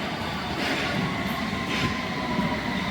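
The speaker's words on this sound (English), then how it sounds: "I think that's the train to Hammersmith." A London Underground Hammersmith and City line train rumbles past, a steady, loud roar of wheels and carriages with faint squeals and rattles throughout and no talk.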